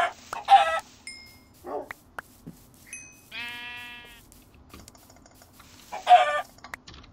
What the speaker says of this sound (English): Man, there are just chickens.